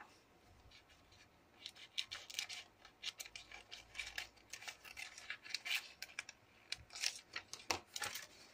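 Scissors cutting out a paper window for a handmade mini album, a quiet, close series of short crisp snips and paper rustles in irregular bursts.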